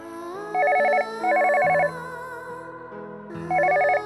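A telephone rings in repeated electronic trilling bursts, loud and close, with a short pause between rings over a soft background tone.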